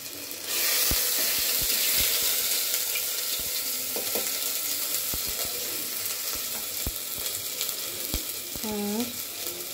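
Ginger fries in hot oil in a pan for a Bengali bhuna pulao with chana dal, giving a steady, loud sizzle with scattered pops and a few clicks of stirring, and no talking.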